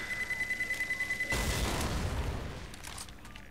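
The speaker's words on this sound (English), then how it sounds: "I don't think that pipe bomb went as well as expected" A pipe bomb in Left 4 Dead 2 beeps rapidly with a steady tone, then bursts into a loud, rumbling explosion that rolls on and slowly fades, with no one talking.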